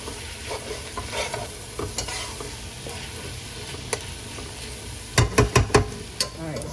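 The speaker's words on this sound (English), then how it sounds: "Give it a good mix." A spoon works through a vegan turkey mixture in a frying pan, giving soft sizzling under a run of light scrapes, then a quick burst of sharper knocks and scrapes near the end; no one speaks.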